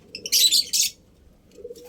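Birds in a breeder's loft give a short burst of bright, loud chirps, then fall quiet with only a soft low murmur beneath.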